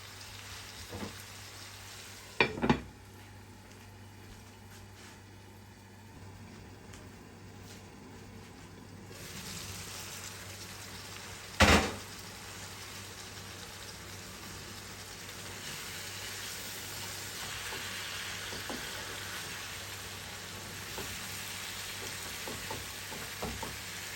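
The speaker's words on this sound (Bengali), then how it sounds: "মাছটাকে ভালো করে ভুনে নিলাম যাতে মাছে কোনো গন্ধ না থাকে।" Boal fish frying in a pan gives a steady, faint, hissing sizzle that runs throughout, broken by a couple of sharp clinks or pops and a brief louder crackle.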